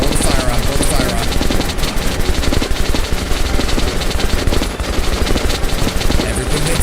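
Sustained rapid gunfire against heavy troopers in a Metro game, loud and continuous, with dense overlapping automatic bursts and shots for several seconds and no talk over it.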